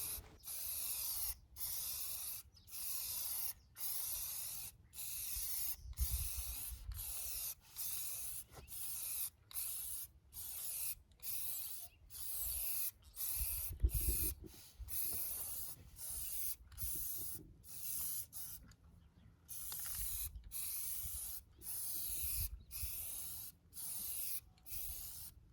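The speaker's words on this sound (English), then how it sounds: "I was having a really hard time holding that spray nozzle down." Spray paint hissing from an aerosol can's nozzle onto a metal stock tank, coming in many short regular bursts separated by brief pauses, close and steady, with no talking.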